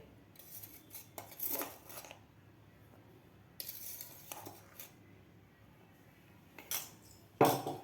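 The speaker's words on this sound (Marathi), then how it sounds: "आता साखरसुद्धा आपल्याला व्यवस्थित मिक्स करून घ्यायची आहे पिठामध्ये" Powdered sugar being mixed into flour for mango puri, with scattered scraping and clinking of a spoon against a bowl in short bursts, fairly quiet and close with pauses between strokes.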